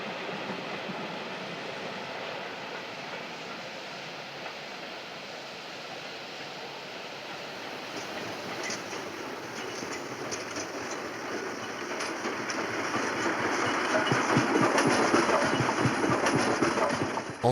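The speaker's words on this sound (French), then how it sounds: "Et sur les voies principales, ce Decaueville prend de la vitesse en direction de Marseille ou de Grenoble." A Decauville locomotive picks up speed on a main line, a steady rolling rumble that builds louder and rougher toward the end, with faint clanks and rattles.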